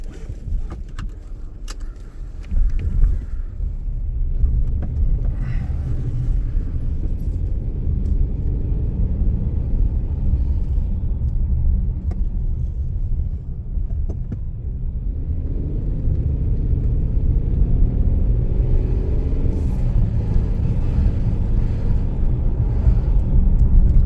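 A 2020 Hyundai Palisade Limited running on a test drive after a spark plug change, a steady low engine and road rumble heard from inside the cabin, with a brief rattle early on and no talking.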